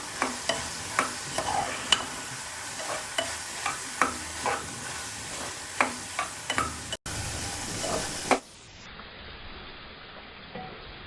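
Cluster bean stir-fry being stirred in a pan with coriander and chilli powder, giving regular spoon scrapes and taps over a continuous sizzle. The sizzle drops sharply near the end.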